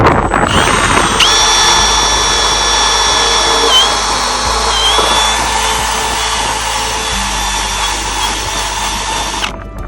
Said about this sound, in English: Okay, drilling into the deck right now.